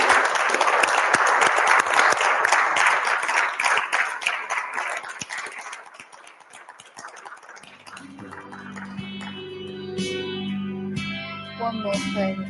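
An audience claps in a full round of applause at a live talk event. It starts loud and dense, thins out midway, and gives way to music rising underneath as the clapping trails off.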